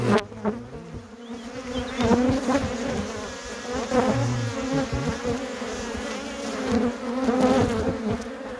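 Honeybees swarm around an opened hive during a frame inspection, their dense buzzing steady and close throughout, swelling slightly as individual bees pass near.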